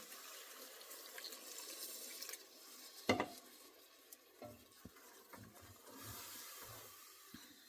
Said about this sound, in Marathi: सो आता मी थोडं पाणी घालते.